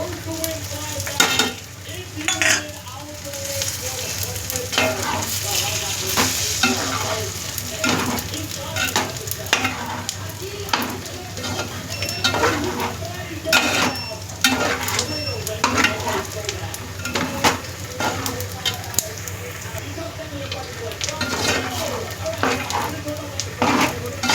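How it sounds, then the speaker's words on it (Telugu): Mutton fry (mamsam fry) sizzles steadily in a pan, punctuated by repeated scraping stirs of a spatula at an irregular rhythm, close and moderately loud, with someone talking over the cooking. "అయిపోయిందండి మాంసం ఫ్రై అయితే. దీంట్లో లాస్ట్లో నేను వేసేది కరివేపాకు, జీలకర్ర."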